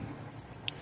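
A bunch of vehicle keys jangles faintly and briefly outdoors, with a few light metallic clinks and one sharper chink near the end over low background rumble.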